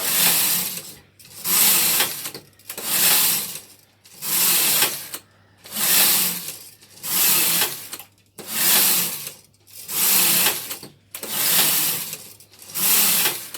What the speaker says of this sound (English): So now it's just a case of running the carriage across however many rows you need to go.